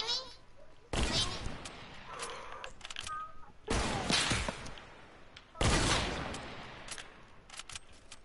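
Hunting rifle gunfire in a video game: three loud, sharp shots spaced a couple of seconds apart, each with a ringing tail, with fainter game sounds and a voice in between.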